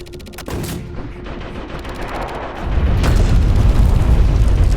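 Sharp gunshots and booming blasts from the video game Conscript ring out, followed by a heavy rumbling roar that swells and continues loudly, like an intense battle.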